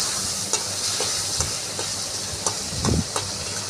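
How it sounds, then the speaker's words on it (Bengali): Prawns frying in a pan give a loud, steady sizzle with a hissing, steam-like wash. Occasional stirring scrapes and clicks land every half second or so, and there is no talk. "চিংড়ি মাছটা ভেজে নিচ্ছি।"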